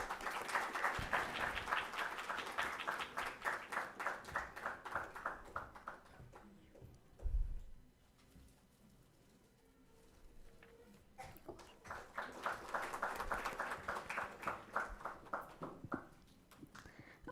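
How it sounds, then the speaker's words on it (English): Audience applause at an early childhood education conference, bursts of clapping that swell, fade to near quiet for a few seconds with a low thump, then rise again, fairly faint overall. "Can we have a loud round of applause,"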